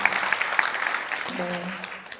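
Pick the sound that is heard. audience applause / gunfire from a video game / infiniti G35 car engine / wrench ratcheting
audience applause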